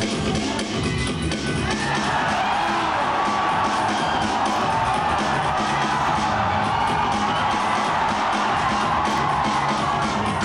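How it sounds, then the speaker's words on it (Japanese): A dense crowd roars and cheers continuously at a Japanese breakdance battle as a crew lands a signature power move, with loud sustained whoops and shouting throughout. "得意の大技にこの勝負最大の歓声が上がる。"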